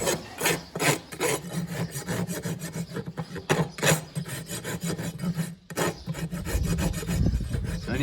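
A farrier works a rasp over a horse's hoof clenches, close and loud repeated rough strokes in a steady back-and-forth rhythm with brief pauses, with no talking.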